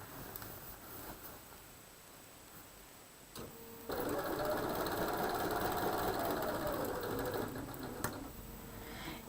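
A sewing machine stitches a quilt border, quiet handling sounds first, then a steady mechanical whir running for several seconds before stopping with a click.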